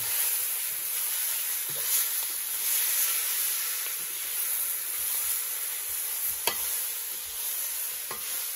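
Hot water is poured into a pan of frying soya chunks, producing a loud, steady hiss of sizzling and steam that runs unbroken, with one sharp click partway through.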